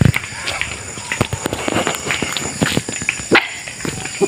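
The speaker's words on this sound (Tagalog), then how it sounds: "Aking mga aso." Dogs barking while following along on a rural walk, several sharp barks and yelps mixed with footsteps and movement, close and loud, with some voice in the background.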